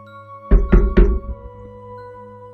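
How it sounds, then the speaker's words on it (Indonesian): Loud knocking on a locked door, three heavy knocks in quick succession, then silence over a steady low hum. "Raka mengetuk pintunya sangat kencang, dan sesekali dia mencoba membuka pintunya"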